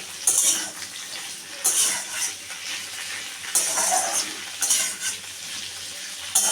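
Drumstick (sajna) stems from a home tree frying in a pan while being stirred, a continuous close sizzle broken by several bursts of spatula scraping against the pan, with no voices.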